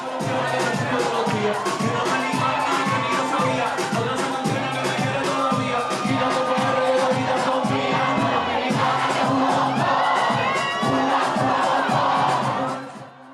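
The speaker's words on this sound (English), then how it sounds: "the crowd was packed, singing and dancing together" A packed crowd at a Super Bowl watch party at a Puerto Rican chinchorro in Orlando cheers, sings and shouts together, a dense continuous roar with rhythmic chanting and a steady thumping beat underneath, loud throughout before cutting off at the end.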